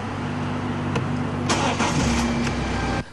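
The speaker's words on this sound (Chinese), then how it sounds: "只要坐进车内，车子感应到钥匙密码的讯号就会发动" A BMW car engine starts and settles into a steady, close mechanical hum with a few brief clicks and surges, and no voices.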